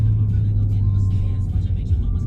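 Car engine with its muffler cut off and a factory downpipe and intake, a steady loud low drone with a slight rev, close by and without talk.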